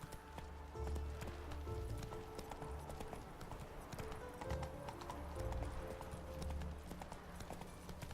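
Hoofbeats of Geralt's horse Roach galloping in The Witcher 3, a steady rhythmic clip-clop at moderate volume over game music, with a whinny heard.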